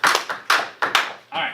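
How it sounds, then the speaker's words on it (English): Scattered applause from a small group of students in a geometry classroom, a few separate bursts of clapping over a short span, close and fairly loud. "Give him a round of applause."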